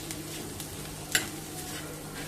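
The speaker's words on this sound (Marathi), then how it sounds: "आपण जो मसाला वाटून घेतला तो टाकूयात आणि याला कांद्यासोबत परतून घेणार आहोत" Ground masala being sautéed with onions in a pan for a thin dill-leaf curry, a soft low sizzle with a single sharp scrape of the spatula partway through.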